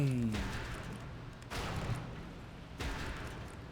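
Repeated cannon blasts during a World of Warcraft Death Knight starting zone battle, three broad booms spaced over a constant rumbling battle noise, with a brief tone at the start.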